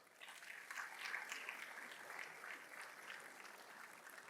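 Audience applause at a pastor's state-of-the-nation address in Nigeria, a steady wash of many hands clapping at moderate distance for several seconds, filling the hall without a voice over it.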